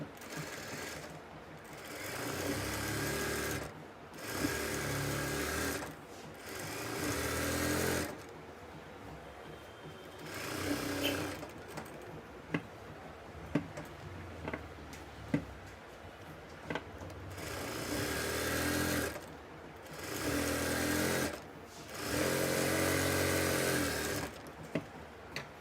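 A sewing machine stitches the side seam of a kameez, running in several long steady bursts separated by short pauses, close and fairly quiet, with small clicks of handling between runs.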